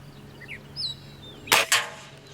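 A Beeman Silver Kodiak X2 pellet rifle, a .177 and .22 combo air rifle, fires nearby: a sharp, loud crack followed a split second later by a second snap, with quiet before and after and no talking.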